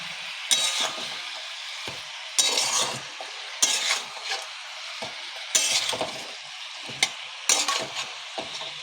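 A fish and potato curry with turmeric, cumin and coriander powder is sautéed and stirred in a pan, giving repeated bursts of scraping and sizzling, about six rhythmic strokes with short quieter gaps between them.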